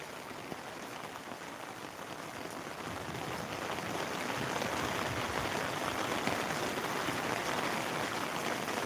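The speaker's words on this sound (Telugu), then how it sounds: "మరి వర్షం అయితే కొంచెం ఎక్కువైంది" Steady rain falls in Velichala in a dense, hissing wash that swells slightly louder after the first few seconds, with no voices.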